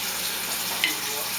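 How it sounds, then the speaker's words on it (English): Water from a kitchen tap runs in a steady, even hiss throughout, with a faint brief clink partway through. "can you shut that water?"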